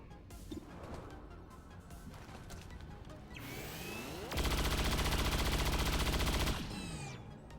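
Gunfire in XCOM Long War: a few scattered shots, then a long, loud rattling burst of automatic fire lasting a couple of seconds before it cuts off.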